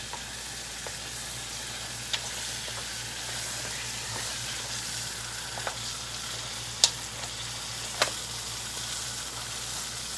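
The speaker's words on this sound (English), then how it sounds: "we're going to fry these just a little bit longer" Blue claw crabs frying in hot oil for salt and pepper crab, giving a steady close sizzle and crackle with a few sharp pops and utensil clicks, no talking.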